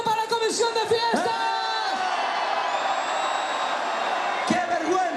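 A festival crowd at an open-air concert in Cacheiras, Teo shouts and cheers loudly for the festival committee, with whoops and whistles over dense crowd noise throughout.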